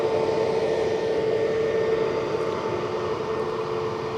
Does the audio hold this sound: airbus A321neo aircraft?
yes